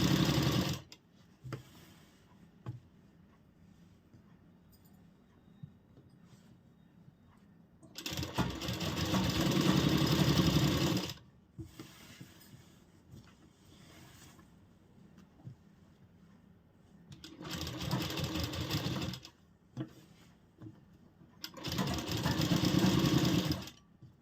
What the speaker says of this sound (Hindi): इसके ऊपर रखेंगे और एक सिलाई लगाते जाएंगे